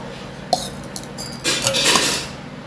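Dry mango pickle being stirred in a metal pot, with scraping and clinking of a spoon against the metal, a sharp knock followed by a louder stretch of rustling, clattering mixing.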